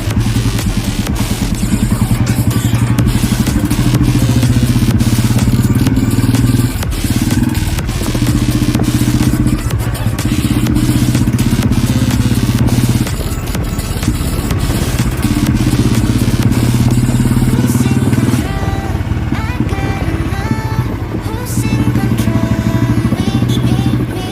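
A Royal Enfield Machismo 350 motorcycle with a standard silencer thumps loudly and steadily at close range, idling with a deep rhythmic beat and some revving throughout.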